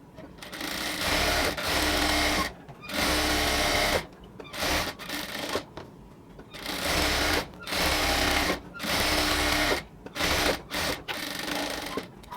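A sewing machine stitches salwar pant fabric in loud, close bursts of rapid whirring, stopping and restarting several times with short quiet gaps between runs.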